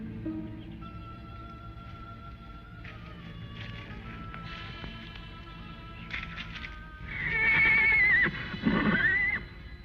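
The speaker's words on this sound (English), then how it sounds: "Go out and see what's bothering the horses." Horses neighing in an old Western adventure drama, a couple of loud, shrill whinnies rising and falling near the end over a faint tonal background.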